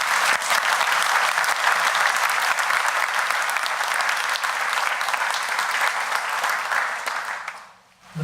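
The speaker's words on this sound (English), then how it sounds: "Let's have a round of applause for them." An audience at The Wall That Heals event in Southeast Iowa claps for contributors in sustained, dense applause that holds steady for about seven seconds before fading out.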